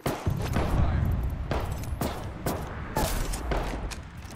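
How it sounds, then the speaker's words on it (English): Video game gunfire from an online shooter, a series of sharp repeated shots and bursts roughly every half second, loud and close, with in-game voices talking over it. "they just opened fire"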